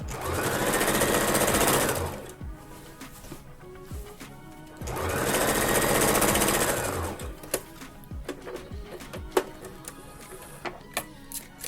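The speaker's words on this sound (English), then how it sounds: "So I came in on tapering the stitch roughly about almost to the crotch of the pants" A sewing machine stitches to taper the legs of old trousers, with two long steady whirring runs separated by a pause, then scattered clicks and taps of handling, close and without voices.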